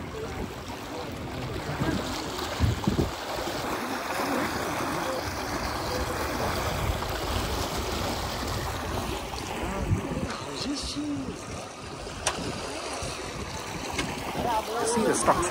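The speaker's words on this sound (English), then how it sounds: "Cruise ride, Amsterdam, Netherlands" Cruise boat gliding along the Amsterdam canals, a steady wash of water and wind rumble with engine hum, people talking faintly over the continuous noise.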